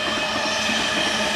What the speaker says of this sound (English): We're by the train tracks.